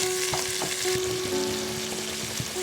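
Ground pork browns in a hot pan at full heat for a ragu, sizzling loudly and steadily with a few scraping stirs as the meat is broken up.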